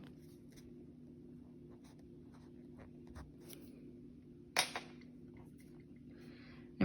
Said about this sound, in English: And then I'm going to write it on the line.